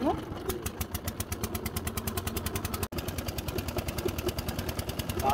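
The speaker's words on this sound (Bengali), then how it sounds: "এক ছোট ভাই ট্রলার স্টার্ট দিতেছে চরে মাছ ধরতে যাওয়ার উদ্দেশ্যে" A small fishing trawler's engine starts before heading out to a river char in Barishal, then knocks in a steady, fast, loud rhythm nearby, with a brief dropout partway through.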